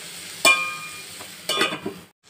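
Onions sautéed with salt in a pan for chana masala: two close bursts of spatula stirring and scraping over a soft sizzle, then quiet, with no voices.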